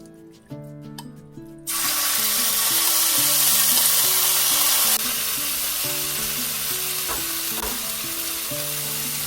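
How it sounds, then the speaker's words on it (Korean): Ingredients for a tuna bibimbap sauce hit a pan on the lowest heat and start stir-frying, a sudden loud steady sizzle that carries on unbroken, with faint tonal music running underneath. "이제 볶아만 주시면 돼요."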